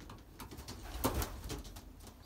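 Belgian racing pigeons at their loft give soft, low cooing calls, with a slightly stronger burst near the middle over a steady rustle of background noise; no one speaks.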